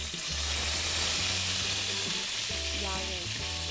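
Eggplant slices fry in hot oil in a pan for Turkish patlıcan çığırtma, giving a loud, steady, close crackling sizzle, with faint voices and a low hum underneath.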